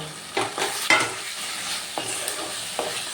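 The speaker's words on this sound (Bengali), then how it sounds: "আলুগুলো দিয়ে মশলার সাথে ভালো করে আবারও কষিয়ে নেব" Fried potatoes are stirred and sautéed with spice paste in a pan, with a soft continuous sizzle and several distinct scraping stirs of a spoon against the pan, close up and without voices.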